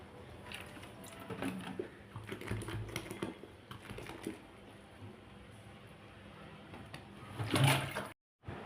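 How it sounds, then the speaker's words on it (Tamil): Water is poured bit by bit into a homemade dishwash gel mixture with lemon salt, foaming as it is stirred. Irregular close splashing and sloshing run throughout, rising to a louder burst near the end, with no talk. "இந்த டைமில் தான் நான் தண்ணீர் சேர்த்துட்டு இருக்கேன்"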